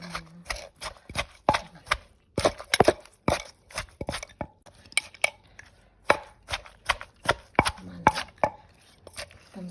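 Papaya salad (som tam) pounded in a mortar, a steady series of sharp thuds and wet knocks, close, with faint voices talking in the background.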